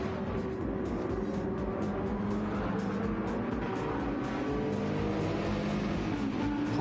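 A race car drifting in Gran Turismo 7 during an online racing series round: a steady, dense roar of engine and tyre noise that holds throughout with no pauses.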